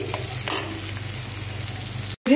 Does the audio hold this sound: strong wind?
no